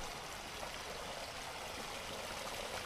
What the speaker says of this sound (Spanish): Sí, el agua está fluyendo increíblemente bonita ahora.